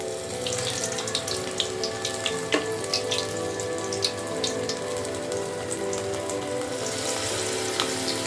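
Chicken pakoras deep frying in hot oil over a low flame, a dense, steady crackle and sizzle with scattered sharper pops running throughout, close and fairly loud with no voices.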